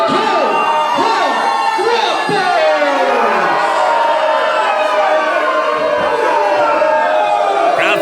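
A wrestling crowd roars and cheers for the tag team the Cold Hard Guapos, a loud, dense wall of shouts and whoops filling the arena throughout.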